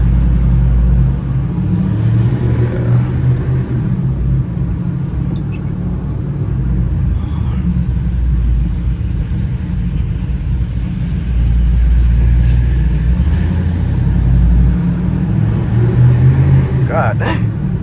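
Heard from inside the cabin, a 2010 Mustang GT engine with its exhaust valves closed gives off a steady, muffled low rumble with mild rises in revs, while a person talks over it.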